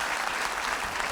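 Steady applause from a comedy club audience fills the room, dense and continuous clapping with no gaps over the short span.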